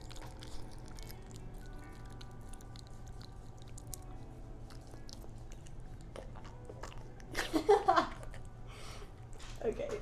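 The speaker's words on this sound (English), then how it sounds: "For some reason, this dog forgot to chew before swallowing." A dog wolfs down food without chewing, making faint wet biting and gulping noises over a low background hum, with a short cluster of louder chomps near the end.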